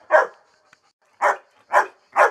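Dogs bark four times, close and loud, with one sharp bark, a pause, then three quick barks in a row, and near silence between them.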